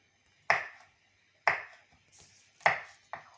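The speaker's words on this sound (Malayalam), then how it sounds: "അപ്പം ഇനി നമുക്ക് ഇതും കൂടി അരിഞ്ഞാൽ മതി." A knife chops chili finely on a board in four crisp, evenly spaced strikes, close and distinct against a quiet background.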